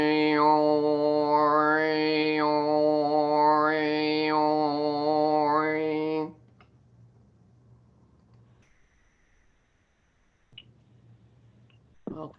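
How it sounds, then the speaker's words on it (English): A single voice sustains a low drone for about six seconds while sweeping whistling overtones rise and fall above it, followed by near silence with faint room noise and a brief click. "overtone chanting"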